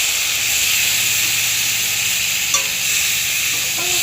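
Boiled amita (green papaya) and potatoes are stirred in a hot pan for an Assamese fish dish, a steady sizzle and hiss with a soft scrape of the spoon partway through, heard close and alone.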